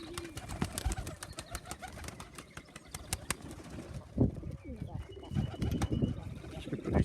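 Young pigeons released from a loft coo softly and beat their wings in short flapping bursts, close by, while someone talks intermittently over them.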